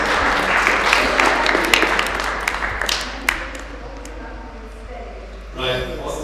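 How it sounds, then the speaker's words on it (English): An audience applauds at a citizens' movement AGM. Dense clapping is loud at first and thins and fades over several seconds, leaving a quieter room with a few scattered claps. "So can we give all of them a round of applause?"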